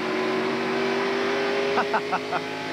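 A stock race car engine drones steadily at Phoenix International Raceway, loud and continuous throughout, with a few short bursts of squealing, loosening tires or engine strain near the end.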